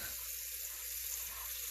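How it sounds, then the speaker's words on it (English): Water pouring steadily onto boiled chicken back, drumstick and pigtail pieces in a pot, a continuous close splashing wash with no voices. "I'm going to pour some water onto my chicken"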